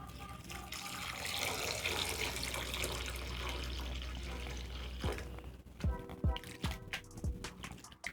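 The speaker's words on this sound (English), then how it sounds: "so to remove the starch I'm going to add in water" Running water gushes steadily into a bowl of potatoes for several seconds, then gives way to a few sharp knocks and clatters of handling.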